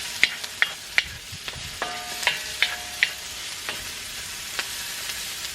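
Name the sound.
sautéing vegetables in a pan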